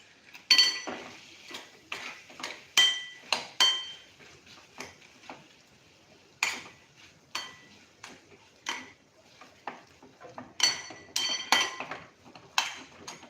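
A spoon stirs spiced masala with red chili powder and lemon in a bowl, giving a steady run of close, bright clinks and scrapes against the sides, with short pauses between bursts of stirring.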